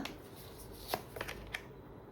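Oracle cards shuffled by hand, a close, continuous papery riffle with a few sharper flicks and snaps standing out, and no talking.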